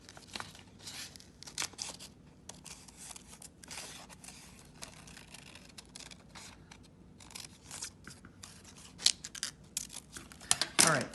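Scissors cut out paper letters for a letter sculpture, giving scattered quiet snips and paper rustles at close range, with sharper cuts and crinkling toward the end.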